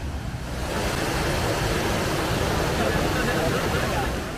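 Waterfall on the Rio Formoso at Fazenda Catadupa, São José do Barreiro, a dense steady rushing roar of falling water that swells up and holds evenly throughout.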